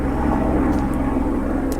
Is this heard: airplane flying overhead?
yes